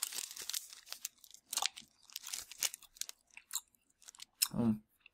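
Close, wet chewing of very chewy British toffee, with irregular sticky crunches and mouth sounds over about five seconds, plus a short voiced hum near the end.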